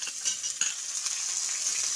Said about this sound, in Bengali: বেগুনটা দিয়ে আরও খানিক্ষণ ভেজে নিতে হবে